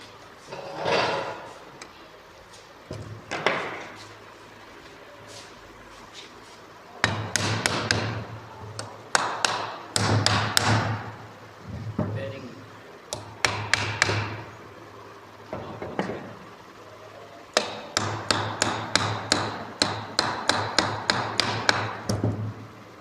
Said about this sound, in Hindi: ठोकना इसको मैलेट सही है बस